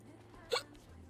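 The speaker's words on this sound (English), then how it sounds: "Oh, I got the hiccups." One short, sharp hiccup from a woman, close and clear over a low background hum.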